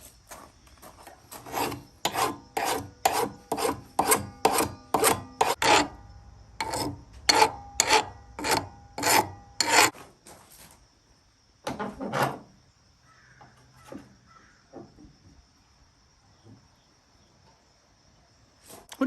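A coarse hand rasp is filed back and forth in a quick, even rhythm of about a dozen rough strokes, close and distinct, then pauses and gives a few scattered scrapes before falling quiet.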